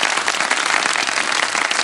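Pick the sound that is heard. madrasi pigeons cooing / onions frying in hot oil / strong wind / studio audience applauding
studio audience applauding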